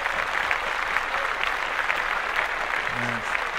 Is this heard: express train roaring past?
no